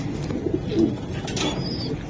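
Racing pigeons coo softly nearby, a few low throaty calls over a dull background murmur with no speech.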